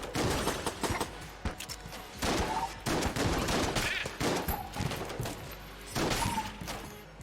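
Repeated bursts of sawed-off shotgun and starting pistol fire in Enter the Gungeon, loud volleys coming in uneven clusters through the whole stretch with no talking over them.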